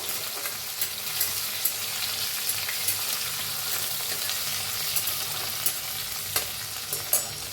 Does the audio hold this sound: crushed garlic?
yes